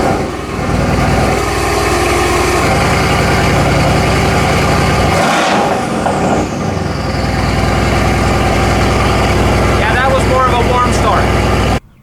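A Ford F150 pickup's engine idles steadily after a somewhat cold start, a loud, close, continuous low rumble with a brief shift in tone midway, running alone until it cuts off at the end.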